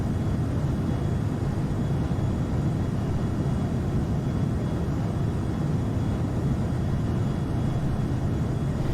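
Steady drone of an airplane engine in the X-Plane flight simulator while cruising at altitude, a constant low roar with no breaks and no voices.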